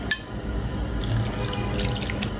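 Lukewarm milk poured into a bowl of flour, salt, yeast and sugar for bread dough, a steady liquid stream with a faint drip at the start, close and alone.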